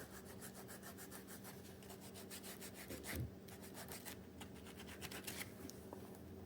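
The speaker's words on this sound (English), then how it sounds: "I'm using 150 grit sandpaper, so I don't know if that's too rough" Hand sanding of leather edges with 150 grit sandpaper, a quiet, steady back-and-forth rasping that goes on for several seconds.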